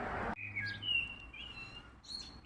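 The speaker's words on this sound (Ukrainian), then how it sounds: "пташки так гарно співають" Birds chirp and sing in clear, high tweets outdoors on a street in Switzerland, a few calls spaced across a quiet background after a brief noise at the start.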